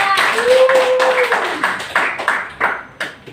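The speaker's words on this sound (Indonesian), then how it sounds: "Oke, berikan aplaus untuk kelompok 2" Students in a classroom clap for a group during a history practice-teaching lesson, a short burst of close applause that thins out into a few separate claps. A brief tonal ping sounds near the start.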